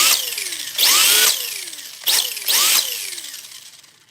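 A Hobbywing-powered RC drift car motor runs with turbo engaged, giving a high whining rev that rises and falls in two loud bursts with descending whistles in between, close and without talk.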